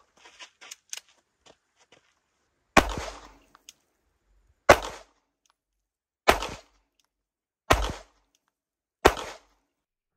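Five sharp Glock 19X pistol shots fired at a target from 10 yards, evenly spaced about one and a half seconds apart, loud and close, each with a short decaying tail, after a few faint clicks and handling noises.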